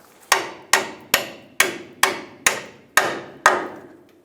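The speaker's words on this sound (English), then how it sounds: "Now we're going to come back and just punch this bolt straight through and remove our shock." A bolt being hammered out of the front shock mount on a 1992-1996 Ford F-150, eight sharp metallic blows at a steady rhythm, each ringing briefly, close and loud.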